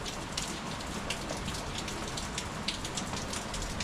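Rain falls steadily outdoors in the evening, a dense even hiss of drops on surfaces with faint scattered taps, moderately quiet and continuous with no voices.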